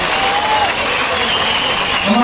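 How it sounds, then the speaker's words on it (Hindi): A large crowd at an outdoor public rally addressed by a politician in Chanderkote, Ramban, fills the air with loud, continuous, dense applause mixed with shouting voices. "जोर से ताली"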